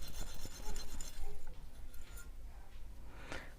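Rough scrubbing against the rusty wheels and axles of a postwar Lionel toy train, heard as quiet rapid back-and-forth rasping, close by, with a voice speaking over it.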